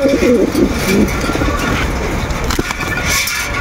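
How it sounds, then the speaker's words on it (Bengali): Saharanpuri Udal pigeons, a crested hen among them, coo in short low repeated phrases early on, close by, over steady background noise and some movement. "যে জোড়া ইউডাল কবুতর আছে সাহারানপুরি, টুপিদার মাদি।"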